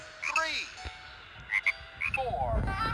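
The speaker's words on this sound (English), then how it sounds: "A jumping frog." A cartoon frog croaks and hops across lily pads in the I SPY Castle video game: a few short, bright croak calls and springy jump effects, clear and close.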